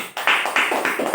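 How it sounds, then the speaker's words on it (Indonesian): Several separate hand claps in a classroom, about four sharp bursts in quick succession, close and fairly loud with no talking. "Tepuk tangan dulu buat Topik."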